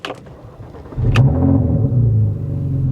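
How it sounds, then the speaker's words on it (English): A starter cranks briefly, then the large engine of an old GMC RV catches and settles into a loud, rough, rumbling idle with uneven revving and exotic-sounding exhaust, close up. "Well, that's a exotic sounding exhaust, isn't it?"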